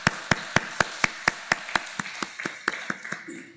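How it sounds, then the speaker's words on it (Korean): A church congregation claps in steady unison to welcome a guest, a clear, evenly spaced beat of about four claps per second that holds its rhythm and loosens slightly toward the end. "잠시 일어서 주시면 우리 박수로 환영해 주시면 고맙겠습니다."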